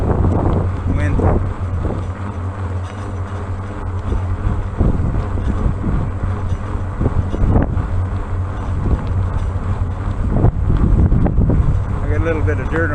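Steady wind buffets the microphone while cycling on a bike tour at Presqu'ile, a heavy continuous rumble with gusty surges.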